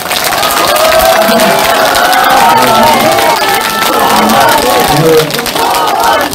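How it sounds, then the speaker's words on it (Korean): A packed crowd at a political party book-launch event for party leader Cho Won-jin of the Our Republican Party cheers and applauds loudly, a dense, steady roar of clapping and shouting voices that holds throughout. "여러분께 큰 박수 부탁드립니다"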